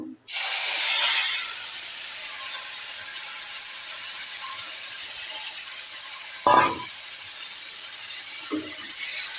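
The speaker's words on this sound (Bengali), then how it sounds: "জিরা তেলে দিলাম একটু তেল দিয়ে" Cumin seeds hit hot oil with a sudden loud hiss that settles into a steady sizzle, broken by a couple of brief clinks or scrapes, with no voices.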